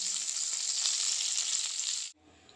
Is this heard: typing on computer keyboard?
no